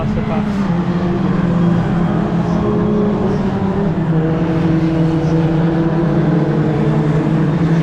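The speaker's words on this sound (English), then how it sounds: "wait for these cars to pass." Race cars pass on track behind a safety car, a loud, dense engine drone with overlapping tones that holds steady throughout, heard amid trackside noise.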